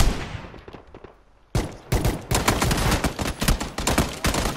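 PUBG gunfire: a fading reverberant tail gives way to a near silence, then a sudden loud shot and a rapid volley of close gunshots in quick uneven bursts.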